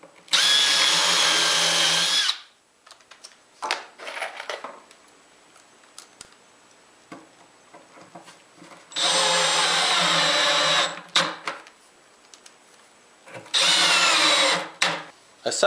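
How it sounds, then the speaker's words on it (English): A cordless drill with a 7/16 socket on a long extension drives lag screws into a wooden table saw outfeed table, in three loud sustained whirring runs separated by quiet pauses and clicks. "A 7/16 socket and a very long extension are the easiest way I've found to drive these lag screws in"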